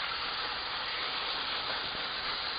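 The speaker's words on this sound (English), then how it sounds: "I'll just set it down in there and it'll sear the sides. You could hear it sizzle." A steak seared in hot oil in a pan, giving a steady, dense hissing sizzle that runs throughout without pause.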